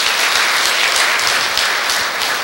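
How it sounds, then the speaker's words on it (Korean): Sustained applause from a large crowd at a Buddhist military chaplains' day ceremony, dense and steady clapping that fills the whole stretch without pause. "큰 박수 다시 한번 부탁드리겠습니다"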